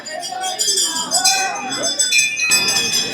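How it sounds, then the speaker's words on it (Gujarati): Bells clang continuously at Bade Hanuman temple during the Maha Kumbh in Prayagraj, metallic rings layered over a crowd, with people talking nearby. "હવે તમે અવાજ સાંભળી શકતા હશો ઘંટના સતત થઈ રહ્યો છે"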